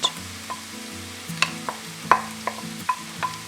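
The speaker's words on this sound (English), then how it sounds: "Now toss them in a pan for a minute or so before adding in your onions and cabbage." Carrot pieces tossed and stirred in a hot pan while making veg momos, a steady sizzle under repeated light scraping and clacking of the utensil in a close, regular rhythm.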